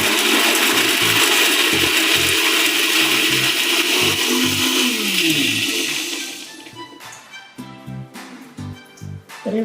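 A kitchen mixer grinder whirs loudly as it grinds dried coconut for ladoo, a harsh steady motor roar with rattling that cuts off after about six seconds, leaving a few knocks and rattles of the jar.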